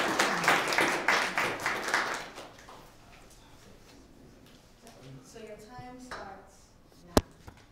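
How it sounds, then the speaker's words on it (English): A round of applause from the audience at an undergraduate economics debate, many hands clapping loudly for about three seconds, then fading into quiet room murmur and a voice, with a sharp knock near the end. "Can we give them a round of applause,"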